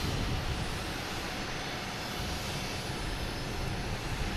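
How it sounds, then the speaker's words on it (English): An Azores Airlines Airbus A321neo jet arriving at Boston Logan Airport, heard as a steady, loud, broad engine roar that holds evenly throughout with no talk. "It's an A321 Neo. Should be popping up here in any second now."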